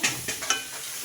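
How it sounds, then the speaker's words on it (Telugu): Eggplant pieces for brinjal curry land in hot tempering oil, giving a soft, quiet sizzle with three quick bright crackles near the start that then settle into a faint hiss. "వంకాయ ముక్కలన్నీ దీంట్లో వేసేసుకున్నానండి తాలింపులో"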